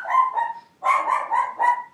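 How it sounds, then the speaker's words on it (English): A single dog barks repeatedly nearby, two sharp barks followed by a quick run of four more, loud and clear with no talk over them. "It's my dog."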